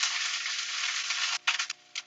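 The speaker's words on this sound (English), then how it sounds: "You hear the sizzle, guys?" Asparagus sizzles steadily in hot oil on a gas stove, a loud, dense crackling hiss that runs continuously before breaking into a few short pauses and bursts near the end.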